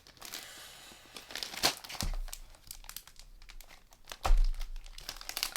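Silver foil paper from a Spellbinders craft release crinkling and crumpling as it is handled up close, with a few sharper crackles and rustles in irregular bursts, no talking.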